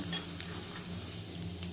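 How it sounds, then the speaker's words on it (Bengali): Peanuts frying in a pan for masala chira, a brief close hiss with a couple of soft stirring scrapes over a low hum, and no voices. "দেখুন আমার বাদামগুলো কত সুন্দর ভাজা হয়ে গেছে"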